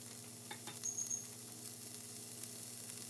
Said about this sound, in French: On va faire revenir également les oignons.